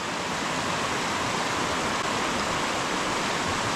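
Creek water in the Eastern Sierra rushes steadily, a loud, close, even broadband wash with no pauses and no voices.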